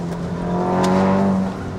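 A Stage 3 SEAT Leon Cupra making 451 bhp pulls hard out of a corner, its engine note rising with a steady drone heard from inside the car, loud and close.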